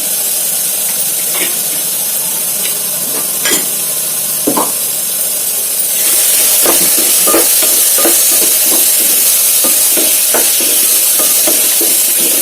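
Grated coconut fries in a pan, a soft sizzle broken by scattered stirring clicks that grow busier and louder in the second half, with no one talking.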